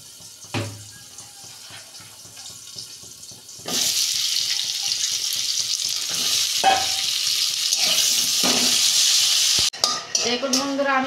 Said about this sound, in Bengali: কড়ায় তেল দিচ্ছি, সিমটা আমি 2 মিনিট ভেজে নেব।